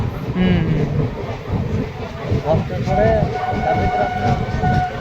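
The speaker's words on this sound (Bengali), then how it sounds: "ট্রেন গুসকোনা থেকে ছেড়ে বেরিয়ে যাচ্ছে" A train pulling out of Guskara station rumbles and rattles steadily under a nearby voice, with faint whistle-like tones rising over the rolling carriage noise.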